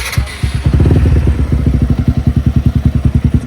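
A race-spec track motorcycle fires up on its electric starter, a brief cranking clatter catching into a loud, close engine that settles into a steady, rapid lumpy idle pulse through its performance exhaust.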